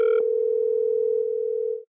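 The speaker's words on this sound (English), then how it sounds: "If you click on the word test, Google will play a ringtone to make sure that you'll be able to hear whatever your guests are saying." A steady electronic test ringtone from Google Meet's audio check plays alone, a bright harmonic onset settling into one sustained tone for nearly two seconds before cutting off.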